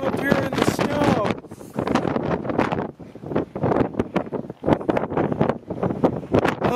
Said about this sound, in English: about as windy as it was last time I came up here in the snow.